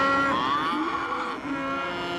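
Cattle lowing at a ranch during the busy season of receiving new stock and shipping old, several overlapping moos sounding close and loud throughout with no talk.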